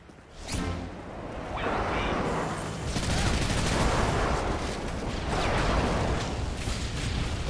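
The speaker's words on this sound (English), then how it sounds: "Friendly airstrike on the way." Airstrike explosions in Call of Duty: Modern Warfare 3 come as a dense barrage of rumbling blasts and crackling gunfire in overlapping waves over several seconds, loud and continuous.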